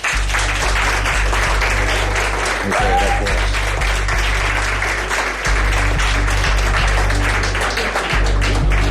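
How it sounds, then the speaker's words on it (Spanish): A studio audience claps in sustained, dense applause for a television guest, loud and continuous throughout, while a voice speaks briefly over it. "para el que os pido un aplauso"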